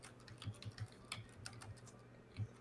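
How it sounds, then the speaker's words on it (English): A computer keyboard pressed at random, an irregular scatter of soft, quiet key clicks in a loose, uneven rhythm, close by and without talk. "So I'm randomly pressing your keyboard."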